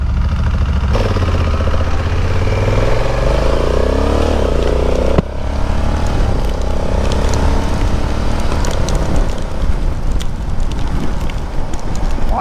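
Motorcycles riding together on a group rideout, their engines droning and rising in pitch as they accelerate, with steady, loud wind buffeting the rider's microphone throughout.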